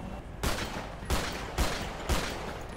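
Gunfire in GTA 5 during a police roleplay shootout: four sharp bursts of shots spaced roughly half a second apart, loud and close, with no one speaking.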